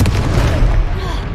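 A Confringo spell blast from Hogwarts Legacy, a dense rumbling explosion that fills the short moment, close and loud with a roaring, crackling wash.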